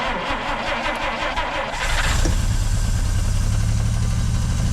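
A 1950 Dodge Meadowbrook engine being started: a rhythmic cranking churn, then the engine catches and settles into a loud, steady low idle rumble.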